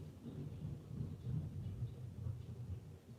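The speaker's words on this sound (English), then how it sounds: "Did you guys hear that thunder?" Distant thunder rumbles low and continuously before a rainstorm, a faint rolling boom with no voices over it.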